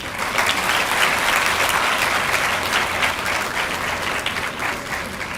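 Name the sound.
audience applause at university book release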